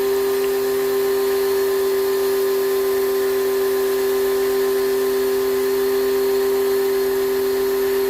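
VICI PWC 70 steam jet cleaner spraying dirt off a motorbike, a steady loud machine hum with a strong constant tone and broad hiss running unbroken throughout, no voices.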